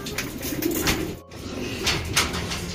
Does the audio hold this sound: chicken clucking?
no